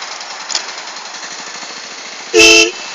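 A motorcycle engine, started via a smart-helmet safety circuit, runs with a steady, rough mechanical chatter close by, then a short, loud horn toot blares near the end.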